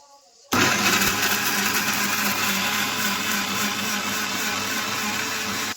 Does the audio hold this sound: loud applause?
no